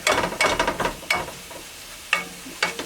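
Garlic sizzles in a pan while a utensil scrapes up the browned bits, with quick repeated scraping strokes over a light, close sizzle.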